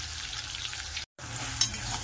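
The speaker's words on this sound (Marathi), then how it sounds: "भाजून घ्यायचा" Ground masala roasting in a pan for a dubuk vada curry, a soft continuous close sizzle interrupted by a brief silent gap, with one small clink near the end.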